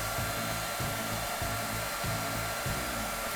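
A Panasonic EH ND61 2000-watt hair dryer runs on its cool setting, giving a steady close-up whoosh of airflow with a low motor hum and a faint pulsing throb. No one speaks.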